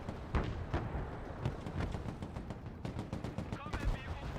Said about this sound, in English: Open fire with those PZ-2000s